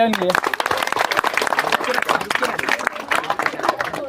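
Audience applauding at a school award ceremony honouring students who passed the 2023 matriculation exams, a dense burst of clapping with voices mixed in, fairly loud and close.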